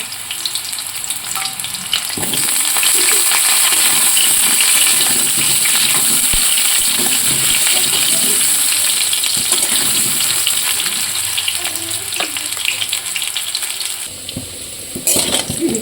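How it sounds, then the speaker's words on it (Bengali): Potatoes fry in a pan with a loud, continuous sizzle and crackle that holds steady for the whole stretch, with no talking. "আলুটা ভাজা হয়ে গেছে"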